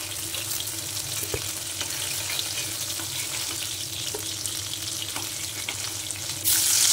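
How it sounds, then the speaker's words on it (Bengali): Steady oily sizzle of eggplant frying in mustard oil in a kadai, continuous and close, with a few faint clinks and a brief louder hiss near the end. "তারপর কড়াইতে সরষের তেল গরম করে বেগুনগুলো ভাজতে দিয়ে দিলাম।"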